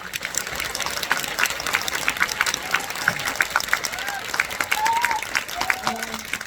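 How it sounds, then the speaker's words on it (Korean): At a film screening event, the audience claps for the actors: scattered, crisp hand claps over a busy hall murmur, with voices and brief cheers rising through the applause. "배우님들께 박수 한번 부탁드릴게요"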